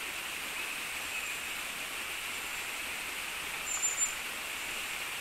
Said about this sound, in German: Beim ersten Fall fällt das Wasser ca. 15 Meter über Geröll und Fels in das ausgewaschene Becken.